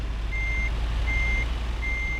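Three evenly spaced electronic reversing beeps from a truck in Euro Truck Simulator 2, sounding steadily over a constant low engine rumble.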